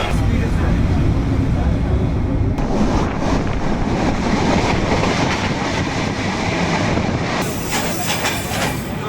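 Banalata train running from Chapai to Joypurhat in Bangladesh, a loud continuous rumble with rattling carriage noise and wind buffeting throughout, a shift in tone partway through as the ride continues.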